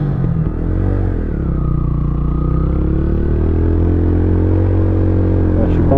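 A motorcycle engine idles steadily at a standstill, a close, continuous low rumble holding an even pitch throughout, alone with no talking.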